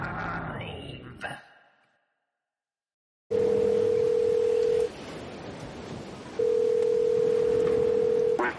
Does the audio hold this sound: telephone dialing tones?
yes